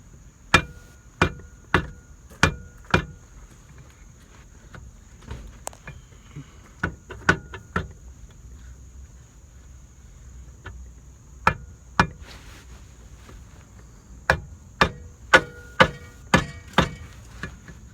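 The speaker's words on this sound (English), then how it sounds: "you're just gonna give it a good couple taps with the hammer" Rubber hammer tapping an A-arm into place on a Mitsubishi 3000GT VR4, sharp close knocks in quick bursts of four or five, separated by quieter pauses with faint handling noises.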